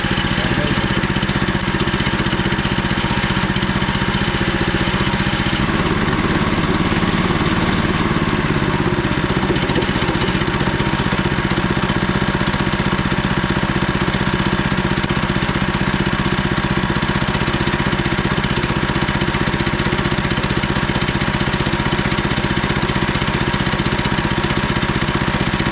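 A small gasoline engine on a Frontier OS27 sawmill runs steadily after starting on the first pull, a loud, close, continuous buzzing drone that shifts pitch slightly partway through, with no voices.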